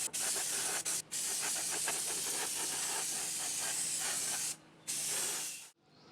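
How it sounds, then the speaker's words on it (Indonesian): A spray gun hisses close up as it lays two-component epoxy primer onto a custom Tamiya Dio Spada model body, in steady sustained bursts broken by a few short pauses before it cuts off. "Saya semprotkan dengan epoksi 2 komponen ya"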